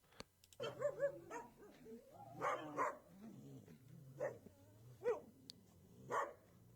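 A dog barks and yips repeatedly in short bursts at moderate distance, with whimpering tones between barks and no talking.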